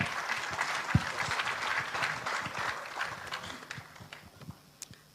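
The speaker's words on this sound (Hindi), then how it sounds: "एक जोरदार ताली" Audience at an Amway business meeting in India applauding someone speaker, steady crowd clapping that starts full and gradually thins and fades over a few seconds, with a few scattered claps at the end.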